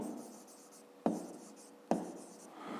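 Pen or chalk writing numbers for a fifth-grade maths exercise, a soft continuous scratching with two sharp taps where strokes begin, close and quiet, no talking.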